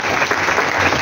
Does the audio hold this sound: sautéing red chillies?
no